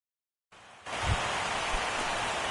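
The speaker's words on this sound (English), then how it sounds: "Rain continues to fall here in the 6th." Steady rain pours down over a ballpark in the sixth inning of a Dodgers–Cubs playoff game in MLB The Show 17, a dense continuous hiss starting abruptly after a short silence and holding loud throughout.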